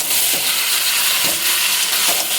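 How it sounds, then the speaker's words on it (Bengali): Chicken meat being stirred with salt in a hot pan, a steady loud sizzle of frying with a few soft scraping strokes of the spoon at a slow rhythm. "দিয়ে নাড়াচাড়া করে দিচ্ছি।"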